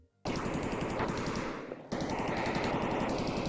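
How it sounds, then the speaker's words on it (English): Automatic gunfire in the video game Escape From Tarkov: loud, rapid bursts that run almost continuously, with a short gap in the middle before the firing resumes. "That sounds like killer's gun."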